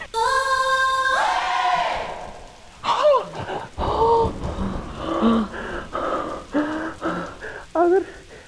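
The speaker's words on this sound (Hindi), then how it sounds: "जब तक ये तूफान थम नहीं जाता" Steady rain with a thunderstorm rumbling beneath, loud and continuous, while people talk and a voice sings or calls over it during a monsoon scene.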